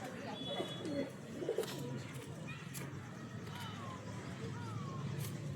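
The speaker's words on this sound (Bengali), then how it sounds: "এই হচ্ছে বড় পায়রা, খুব ছটপটে পায়রা আছে, ধরতে পারছি।" A large, restless pigeon gives low, throaty coos while being held by hand, the soft calls rising a few times over steady background noise with voices nearby.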